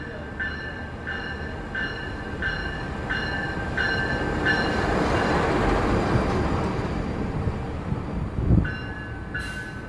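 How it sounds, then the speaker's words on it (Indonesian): Train station ambience as a Taksaka locomotive couples to its passenger cars: a repeating chime-like tone pattern, broad rumbling machinery noise, and a brief clunk near the end as the rail cars connect. "lokomotif kereta api Taksaka akan segera dipasangkan kembali dengan rangkaian kereta api"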